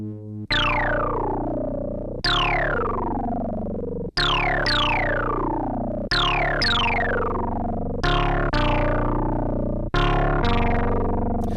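A Moog Grandmother synthesizer plays a square-wave tone with a swept filter, sounding as a run of bright, buzzy notes roughly every two seconds, each one falling in brightness as it holds.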